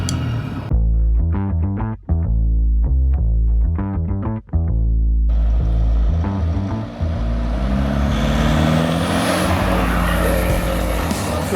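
An engine-swapped Nissan Patrol drives along with a steady, loud engine drone, brief gear-change dips early on, then a rising broadband road and wind roar as it gathers speed.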